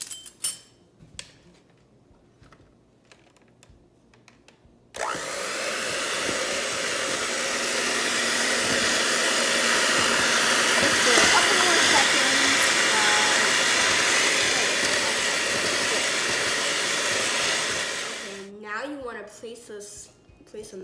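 An electric mixer whips cream for homemade churned butter, a loud steady whirring drone that runs for about thirteen seconds with a little talk before and after.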